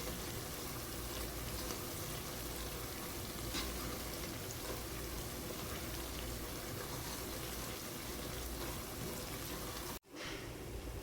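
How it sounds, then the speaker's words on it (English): Onions stir-frying with turmeric, coriander powder and other dry spice powders for a Bangalore-style mutton biryani, making a steady close sizzle that runs without a break and cuts off abruptly near the end. "Stir fry the dry powders with the onions."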